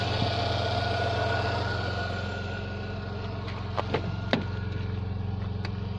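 A Rover 45 V6 engine idles steadily just after an oil service, a close, even hum with a few faint clicks and knocks near the end and no talking.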